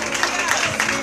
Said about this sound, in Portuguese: Você pode aplaudir o Senhor mais forte